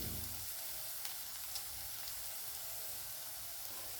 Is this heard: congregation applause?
no